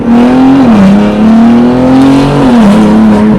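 A car engine holds a loud, strained drone while driving through water, dipping and climbing in pitch a couple of times as it revs, close and dominant with no talk.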